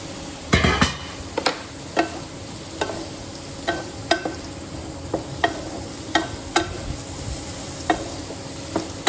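Spice paste is stirred into frying potatoes for an okra dish, with a steady sizzle underneath and a regular series of sharp spatula taps and scrapes against the pan, close and clear, with no talking.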